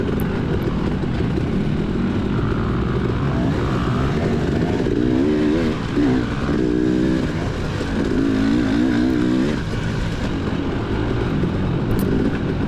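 A dirt bike engine drones continuously and loudly through a cross-country motocross race lap, the pitch rising and falling with throttle changes and occasional revving, with no voices.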